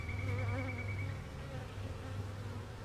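Honey bees from a defensive hive buzz steadily around an open colony, a close, dense droning hum that holds throughout with a slight swell early on.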